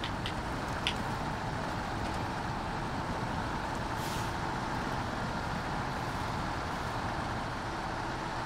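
Truck driving in the video game SnowRunner, a steady low engine rumble and drone held evenly throughout, with a brief sharp hiss like an air brake near the start.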